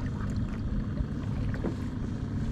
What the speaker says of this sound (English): Let's just gently paddle.